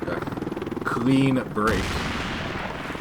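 Rattling gunfire and grenade blasts from Combat Mission: Black Sea, with Russian troops fighting at close range: a quick fusillade of shots followed by a heavier boom and a sustained roar. A voice is present.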